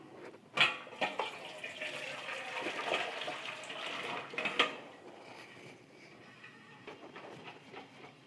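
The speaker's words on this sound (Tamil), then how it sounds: "இப்போ ஒரு பாத்திரத்தில் வடிகட்டி வச்சு நம்ம இந்த காலிஃப்ளவரை ஃபுல்லாக வடிகட்டிடுவோம்." Water rushes and splashes through a metal strainer as boiled cauliflower is drained for several seconds, with a few clinks of cookware before the pouring tapers off.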